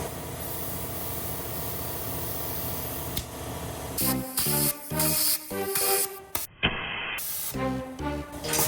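An air compressor pushes pressurized air through a check valve from a Mercedes diesel wagon; a steady mechanical drone gives way to loud, stuttering blasts of hissing air in short bursts.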